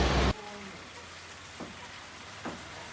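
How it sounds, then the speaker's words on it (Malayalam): Heavy rain pours steadily on a road in Wayanad, a dense, even wash of noise close by. A louder burst opens the clip and a couple of faint knocks sound later, with no talk. "ഒടുക്കത്തെ മഴയാണ്."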